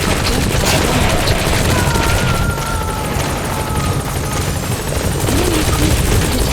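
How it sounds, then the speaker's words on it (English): Support helicopter arriving in the video game Metal Gear Solid V: The Phantom Pain, a loud steady rotor roar with a rapid chopping beat, mixed with bursts of gunfire and faint radio voices. "Support helicopter has arrived."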